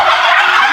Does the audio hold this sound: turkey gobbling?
yes